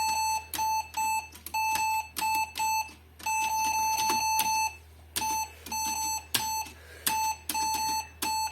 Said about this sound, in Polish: Patrzcie, spacja i ma sygnał dźwiękowy.